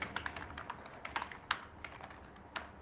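Someone types an address on a computer keyboard, a run of quick, uneven clicking keystrokes with one sharper tap, close and fairly quiet with no talking.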